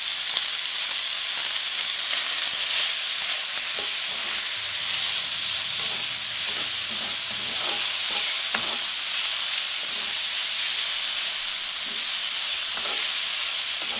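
Beef pieces with ground cumin and garlic cloves sizzle and fry steadily in a pot for a Mexican beef stew, a constant close hiss with occasional stirring scrapes and no talking.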